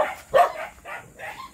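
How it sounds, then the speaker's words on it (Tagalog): Several dogs bark in short, loud bursts at a seaside fishing spot after a typhoon, with yips overlapping at close to moderate distance and no speech. "Ingay ng mga aso."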